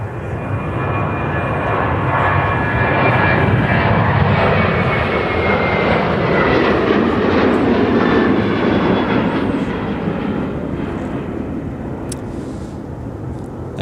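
Aer Lingus airliner departing MSP airport, a steady loud jet engine roar that holds strong throughout before easing slightly near the end, with no talk over it.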